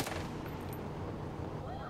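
Drive-by gunfire in the video game Far Cry 5, a dense, continuous burst of shots running the whole moment at steady loudness, with faint speech mixed underneath.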